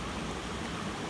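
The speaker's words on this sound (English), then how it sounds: "And now we are on this little stream right here." A small mountain stream flows on a volcano hiking trail, giving an even, continuous wash of rushing water that is fairly soft and unbroken.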